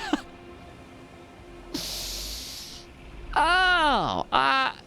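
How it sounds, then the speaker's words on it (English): Sleeping bear in the Elden Ring video game breathing heavily, with a broad hissing exhale followed by two loud, rising and falling snoring snorts, close and prominent over quiet game ambience. "It's a bear snoozing."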